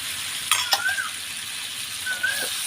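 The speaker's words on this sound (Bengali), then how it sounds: "সেই শুটকিটা আমি এটাতে দিয়ে দেব।" Soaked dried fish goes into hot fried spice masala, giving a soft, steady background sizzle broken by a couple of quick utensil clinks and scrapes near the start and end.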